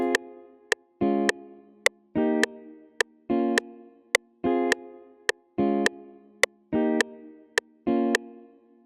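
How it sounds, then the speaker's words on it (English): Clean jazz guitar chords without reverb, programmed in FL Studio, stab in a regular rhythm, each short and dry, alternating with crisp percussive ticks in a steady loop over silence. "this is the jazz guitar without the reverb"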